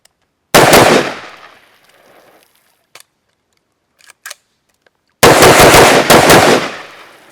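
A rifle fed from Hexmag magazines fires in two loud, rapid bursts, close by, with a brief echoing tail after the first and a few faint clicks and handling noises in the quiet gap between.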